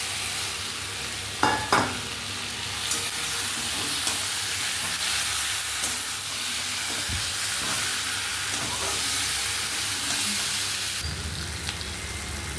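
Fried potatoes go into a pan of cooked-down spice mix with green chili sauce for aloo dum, setting off a loud steady sizzle and hiss with occasional spatula scrapes and knocks, and no talking.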